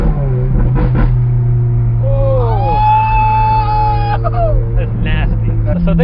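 A Ferrari F430 with a Fabspeed exhaust runs steadily, a loud engine drone with a rising, sustained tonal pitch in the middle and then settling lower again, with a voice talking over it throughout.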